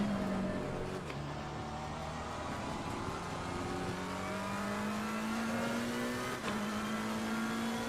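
Race car in Assetto Corsa Competizione at the Nürburgring, engine climbing steadily in pitch as it accelerates, with a brief gear shift before rising again; smooth and continuous at moderate level.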